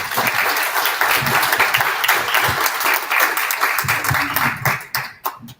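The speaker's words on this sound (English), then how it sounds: "will you give them a round of applause for coming out here?" Loud, dense audience applause at a Pizza and Politics event on preventing school shootings, holding steady before thinning into a few scattered final claps and fading out.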